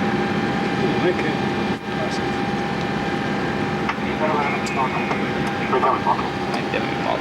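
An El Al jumbo jet's engines hum steadily at a distance, a continuous drone with faint tonal whine and scattered background clatter, no speech over it.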